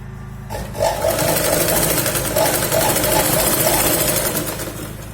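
A sewing machine runs straight stitches along a Punjabi top, a steady close-up whir with a faint repeating needle rhythm that carries on without a break.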